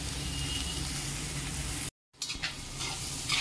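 Onion sautéing in oil in a pan, a steady close sizzle with faint stirring scrapes, briefly cut to silence midway before the frying hiss returns.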